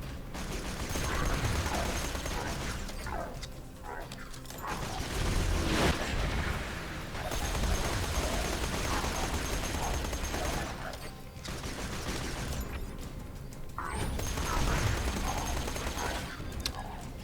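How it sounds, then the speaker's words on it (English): Rapid automatic fire from a Maliwan corrosive SMG in Borderlands 2, sustained bursts of gunfire mixed with loud combat effects and explosions against turrets, dense and continuous throughout. "We can put on this Maliwan corrosive SMG. Keep firing away the turrets maybe."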